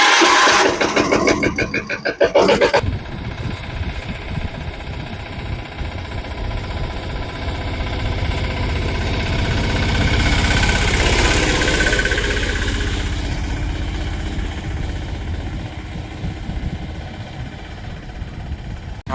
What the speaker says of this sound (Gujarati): આપણું ટ્રેક્ટર વાડી આવી ગયું છે ભાઈ